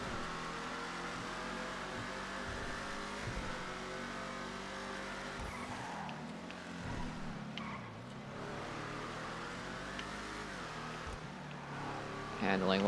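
An Imponte Ruiner ZZ-8 muscle car in GTA 5 Online holds a steady loud engine drone with rising and falling revs and a brief tyre squeal, while someone talks over it.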